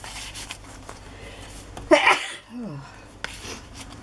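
A single sharp sneeze bursts out near the microphone in a craft room, followed by a brief voiced exhale, amid quiet room tone.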